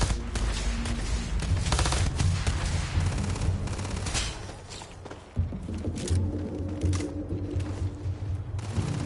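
Rapid bursts of gunfire from the sci-fi video game Starfield, loud and dense with repeated volleys and a brief lull midway before shooting resumes.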